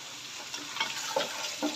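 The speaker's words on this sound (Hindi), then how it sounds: "गाजर और मटर फ्राई होने के बाद मैं इसमें डाल दूंगी बंद गोभी" Carrots, peas and cabbage stir-fry in a pan, giving a soft, close sizzle broken by brief scraping stirs.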